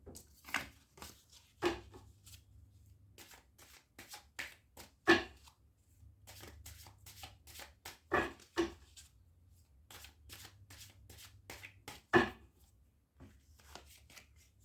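Cards being handled after dropping, a run of sharp close clicks and papery slaps in an irregular rhythm with brief quiet gaps and a faint low hum underneath, no speech.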